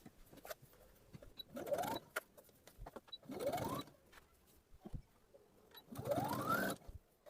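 A sewing machine stitches a kurti in three separate bursts, each spinning up and rising in pitch before stopping, with quiet pauses in between and no talking.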